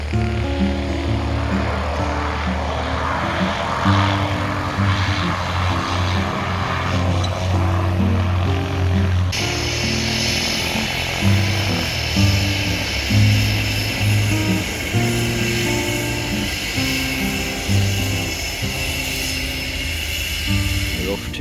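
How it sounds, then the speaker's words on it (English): A small propeller passenger plane comes in to land on a flight to Great Barrier Island, New Zealand, its steady droning engine loud and continuous throughout, with someone speaking over it. "Here comes our aircraft, gently drifting into land."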